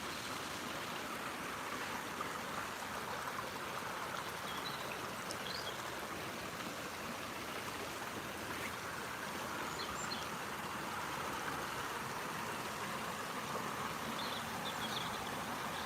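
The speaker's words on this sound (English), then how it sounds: "Got this waterfall here." Outdoor waterfall flowing in the countryside, a constant soft rushing wash of water with no breaks, heard at moderate distance and fairly quiet.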